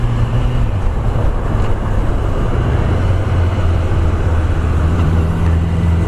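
Steady broadband wind roar rushes past while riding a Kawasaki ZX10R 1000cc motorcycle, with a low engine drone underneath, loud and continuous throughout.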